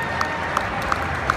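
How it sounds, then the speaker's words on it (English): Convention crowd applauding at a large corporate event, a dense wash of clapping that carries at a steady level throughout, with a few sharp hand claps standing out near the front. "Huge round of applause, please"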